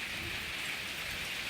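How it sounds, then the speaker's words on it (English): Pea-size hail pours down in a steady, dense hiss with pattering impacts, wind-driven and continuous, with no voices over it. "Oh my God, look at all this hail."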